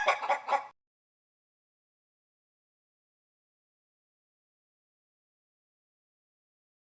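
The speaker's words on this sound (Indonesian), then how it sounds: "ayam," A chicken clucking in an animal-sounds learning game for children: a short burst of busy, rapid clucks at the very start, followed by silence.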